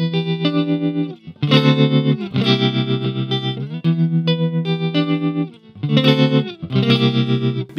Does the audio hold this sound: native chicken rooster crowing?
no